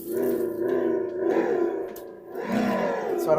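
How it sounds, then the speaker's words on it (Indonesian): A Volta Mandala electric motorcycle plays a simulated big-bike engine sound through its speaker, a loud, close, growling rev that swells, dips and swells again with no talking. "Dan yang pasti nih, kita bisa dapetin suara Moge nih."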